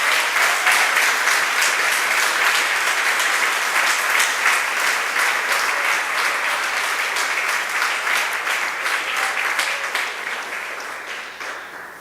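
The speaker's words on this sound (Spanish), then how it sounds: "Levante un buen aplauso al Señor." Church congregation applauding, a dense, sustained round of many hands clapping at steady loudness that slowly thins toward the end.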